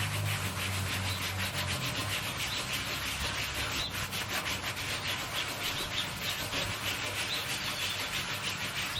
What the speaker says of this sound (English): So now all I have to do is buff up the wax